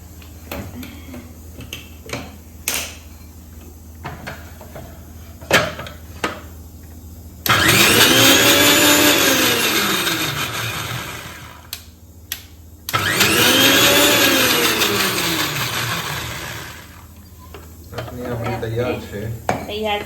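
A mixer grinder blends green chutney with a little added water for vada pav, running in two loud whirring bursts of about five seconds each, with a pause between and kitchen clatter around them.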